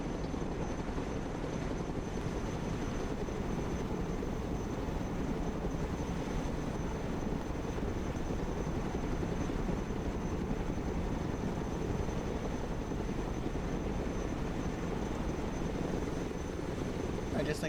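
Chinook helicopter in Broken Arrow, a steady, dense rotor and engine drone running continuously and evenly throughout, fairly loud and unchanging.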